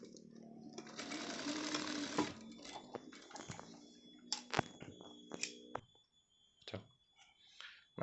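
Sewing machine stitching shirt fabric, a close steady mechanical whir for about two seconds, followed by scattered clicks and handling taps as the machine slows and the cloth is adjusted.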